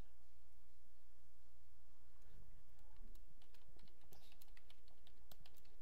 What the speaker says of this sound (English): Type in our new name